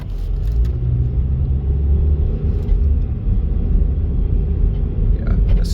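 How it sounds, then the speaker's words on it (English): Steady, loud traffic rumble from cars passing close by on a wide road in east Las Vegas near Fremont Street, a continuous low roar of engines and tires with no voices. "let's count how many cars go"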